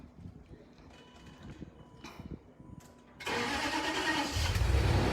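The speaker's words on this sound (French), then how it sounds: "Il faut mettre le moteur en marche." A Land Rover engine cranks and catches after a few quiet seconds, then settles into a loud, rough idle that swells slightly near the end.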